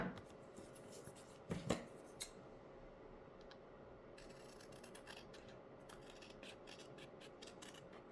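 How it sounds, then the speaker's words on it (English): A couple of quick snipping cuts from scissors through paper near the start, followed by quiet room noise with faint scattered clicks. "I always use scissors on my tutorials"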